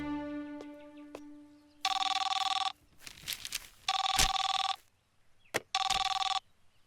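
A telephone rings on an outgoing call, three loud electronic ring bursts with pauses between them, after a few soft tones, with no talking.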